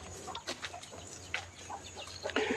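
Chickens on the grounds of a rural Thai temple, Wat Pong Chai in Chae Hom, give soft, scattered clucks, faint and somewhat distant, amid quiet outdoor ambience.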